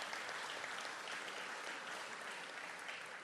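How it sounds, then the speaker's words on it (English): A crowd at a school modernization celebration claps steadily in a dense, sustained round of applause, slightly distant and fading a little toward the end. "Give the architects a great round of applause, too"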